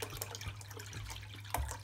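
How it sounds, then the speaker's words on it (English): Alkaline water pours into a bowl in a low, continuous splashing gurgle, close and fairly quiet, with a brief louder slosh near the end. "I'm just gonna pour the water in"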